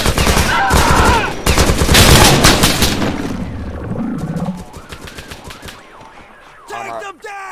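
AI soldiers in the ArmA 3 video game fire guns in dense, loud bursts of rapid automatic shots. The bursts then thin into scattered reports and distant rattles, with a few sharp cracks near the end.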